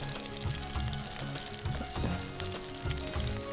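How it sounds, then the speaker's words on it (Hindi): Meatballs fry lightly in oil with a steady, even sizzle and a few soft bubbling pops, close and unbroken, with no voices. "इनको हम हल्का सा फ्राई करके निकाल लेंगे"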